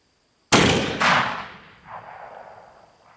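A rifle shot fired at a target at a Saskatchewan bear camp: one sharp, loud crack followed by a quick second burst and a rolling echo that fades away, with no talking.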